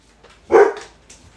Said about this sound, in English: Dogs like to bark at our guests.